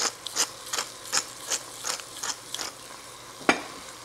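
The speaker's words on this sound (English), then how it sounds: "Put a little bit of crushed, freshly ground black pepper in here." A pepper mill grinds freshly cracked black pepper in short, ratcheting twists, about ten quiet bursts at an even rhythm, close up with no talking.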